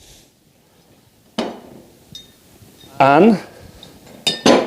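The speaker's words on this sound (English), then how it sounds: "So we're going to pour again in this wine glass." Clear glass clinks and taps as tequila is handled with a wine glass during a tasting, several sharp separate chimes close by, with a brief spoken word between them.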